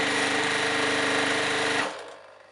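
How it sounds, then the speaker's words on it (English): Sewing machine running steadily while stitching jelly roll quilt strips together, a loud continuous close-up whir that stops abruptly near the end and leaves a faint fading hum. "and just stitching along like that"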